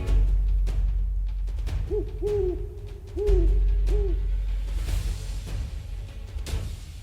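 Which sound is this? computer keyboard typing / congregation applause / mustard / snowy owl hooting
snowy owl hooting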